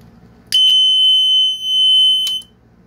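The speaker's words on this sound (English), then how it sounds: "As you see, the buzzer is now connected." A shrill electronic buzzer of a flame sensor fire alarm circuit, triggered by a flame, sounds one steady, piercing tone for about two seconds, starting and stopping with sharp relay-like clicks.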